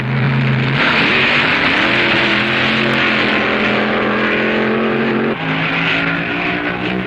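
Drag racing cars at the 1966 NHRA US Nationals roar past in a loud, sustained engine blast, a steady high-revving drone with a brief dip near the end as they run at full throttle.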